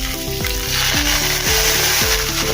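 Ginger, garlic cloves and green chilli sizzling in a pan, a loud dense frying hiss with a repeating clicking, ratchet-like pattern running through the short burst.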